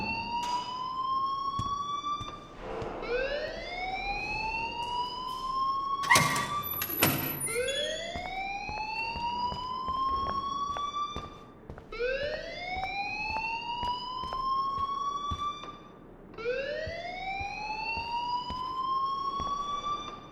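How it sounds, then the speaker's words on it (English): A school alarm in the video game Life Is Strange blares in repeated rising electronic sweeps, each wail climbing in pitch and cycling about every four seconds, with a brief clatter partway through. "please turn off that alarm since that's your job."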